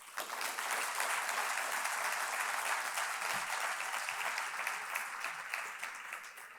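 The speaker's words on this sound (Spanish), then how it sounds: "Otro fuerte aplauso para él." Audience applause at a tribute gathering during a 2023 conference, a steady dense wash of clapping from many hands that holds evenly from start to finish with no voices over it.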